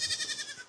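A goat on a small survival farm gives one short, close, quavering bleat lasting under a second.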